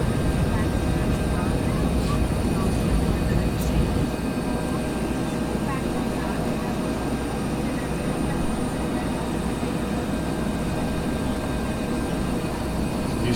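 Bell 412 helicopter lifting off in the flight simulator X-Plane 11, a steady loud rumbling engine and rotor drone with a faint high whine, continuous and close throughout.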